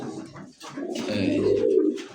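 Pigeons, including Pakistani high-flyer breeds, coo close by in low throaty rolling calls, one short coo followed by a longer swelling one, with no talking.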